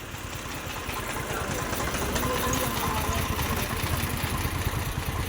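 A tractor engine runs steadily on a rural road beside a livestock fair, its low, throbbing idle close and continuous throughout, with no speech.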